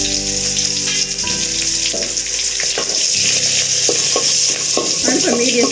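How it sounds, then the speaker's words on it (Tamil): Mustard seeds, urad dal and curry leaves sizzle and crackle loudly in hot oil, a steady close frying hiss with occasional stirring clatter and faint water-like sounds throughout. "எண்ணெய் காஞ்சிருச்சு. கடுகு உளுத்தம் பருப்பு கருவேப்பிலை போட்டுடலாம்."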